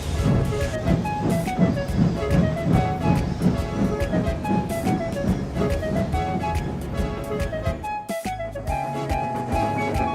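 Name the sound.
train departing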